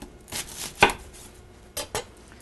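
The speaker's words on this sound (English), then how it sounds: "The first thing I want to do is slice up an onion." A knife slices half an onion on a cutting board for a beef steak sandwich, giving a few sharp, close knocks against the board at uneven intervals amid quiet pauses.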